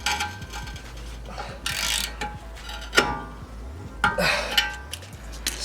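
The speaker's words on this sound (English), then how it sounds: "With using the wrench, now you're gonna start tightening it." A wrench tightens an ARP wheel stud on an RSX Type S hub, producing close metallic clicks and ratcheting scrapes in irregular bursts over a low background hum.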